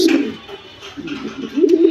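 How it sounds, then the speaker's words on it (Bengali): A pair of military pigeons cooing close by, repeated throaty coos rising and falling in short phrases over a couple of seconds. "আজকে আপনাদের মাঝে একজোড়া মিলিটারি কবুতরের ভিডিও নিয়ে আসলাম"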